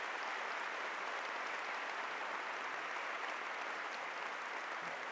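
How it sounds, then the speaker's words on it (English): Audience applause at a peace event, a thick, even roar of many hands clapping that holds at a constant level throughout. "A round of applause for you."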